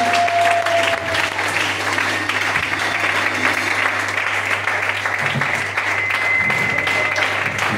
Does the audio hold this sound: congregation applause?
yes